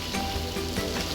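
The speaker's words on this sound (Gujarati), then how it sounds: "વરસાદ પણ કેવો પડી રહ્યો છે" Heavy rain pours onto a flooded road beside a temple, making a dense, loud, hissing roar of drops that stays steady throughout the short stretch with no voices over it.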